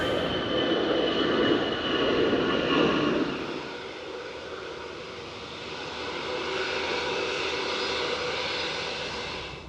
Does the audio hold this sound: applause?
no